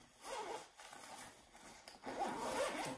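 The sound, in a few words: zipper on a Lug bag pocket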